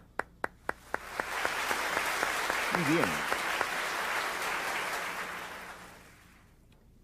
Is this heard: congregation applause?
yes